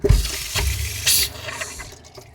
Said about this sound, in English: So the pump's running.